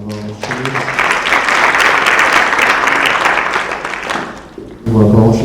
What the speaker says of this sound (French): on va encore applaudir Laurie